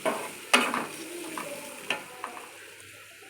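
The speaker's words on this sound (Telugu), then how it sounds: "ఇది సాఫ్ట్గా కుక్ అయ్యే వరకు బాగా కలుపుకొని ఇలా కొద్దిసేపు గ్యాస్ పైన ఉండనివ్వండి" A vegetable cutlet mixture cooks in a pan on a gas stove with a faint hiss, while several distinct scrapes and knocks of a spoon stirring it stand out, close and fairly quiet, with no talking.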